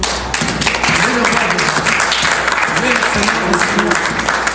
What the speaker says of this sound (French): Glorifions le Seigneur par des acclamations